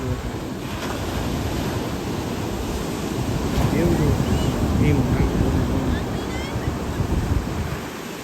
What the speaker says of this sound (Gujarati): તો વેવ આવે છે. વેવ